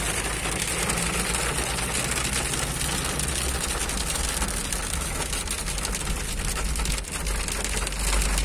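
Light hail mixed with drizzle falling in Los Ángeles, Chile, a dense continuous patter and hiss on surfaces, steady and loud throughout with no talking.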